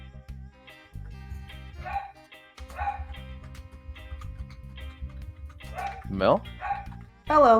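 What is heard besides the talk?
dog barking in the background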